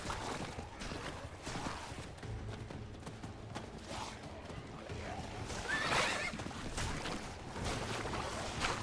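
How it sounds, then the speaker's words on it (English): A horse in the video game Diablo 4 whinnies amid hoofbeat clip-clops over a steady game ambient background, with a brief louder neigh partway through. "I don't want to ride a horse"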